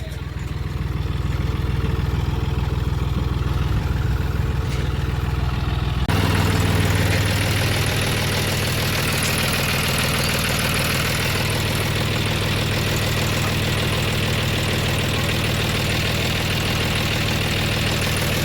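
A diesel tractor engine idles steadily and close by, a continuous low rumble that gets louder and rougher partway through.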